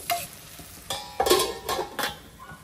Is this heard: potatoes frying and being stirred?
yes